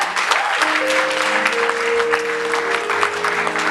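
A church congregation applauds, dense sustained clapping from many hands close by, with a held tone sounding beneath it.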